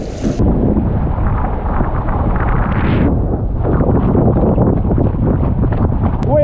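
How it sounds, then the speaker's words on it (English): A large stand-up paddleboard pushed by a 3 horsepower outboard motor runs on a river against the wind, with a steady engine drone and heavy wind buffeting on the microphone throughout. "I think this is the largest stand-up paddleboard with a 3 horsepower motor on it."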